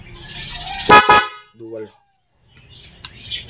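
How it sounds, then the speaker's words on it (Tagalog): A stock car horn honks in two sharp, loud blasts, followed by a brief lower toot, with a short quiet gap before more honking and background noise. "So, stock horn, pagka pinindot mo to,"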